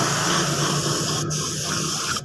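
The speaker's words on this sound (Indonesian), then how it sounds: "ini kita semprot clear seperti ini" Clear coat is sprayed onto a Honda Smash motorcycle body panel, giving a steady, close, continuous airy hiss that holds level throughout with no talking.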